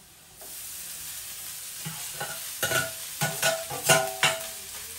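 Rice stirred into fried potato in a hot pan for aloo rice, with a steady sizzle underneath and a series of scraping spatula strokes that grow louder toward the end, close by with no speech.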